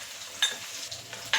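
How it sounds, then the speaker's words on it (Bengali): A spoon stirs spice paste with ginger paste in a bowl while cooking crab, giving short scraping clinks and soft wet swishes, a few quick strokes, close and alone. "এবার মশলাটাকে আমি চামচ দিয়ে ভালো করে গুলে নেব।"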